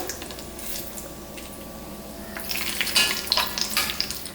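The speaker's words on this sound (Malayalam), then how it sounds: "ഇതിലേക്ക് നമുക്ക് കുറച്ച് അണ്ടിപ്പരിപ്പും കൂടി വറുത്തെടുക്കാം" Onions and cashew nuts frying in hot ghee or oil for paneer biryani, a steady close sizzle that grows louder and crackles more sharply toward the end as the pan is stirred.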